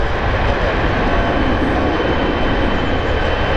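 Air Canada Boeing 777 jet taxiing and turning at foggy Heathrow Airport, a steady, loud, broad engine roar with a deep rumble that holds constant throughout, no voices over it.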